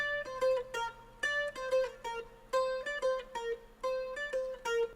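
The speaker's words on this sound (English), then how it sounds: "I also recorded a second melody. It sounds like this." A plucked guitar melodic line of quick, bright notes in a bouncy rhythm, clear and close, with short gaps between phrases and no voices.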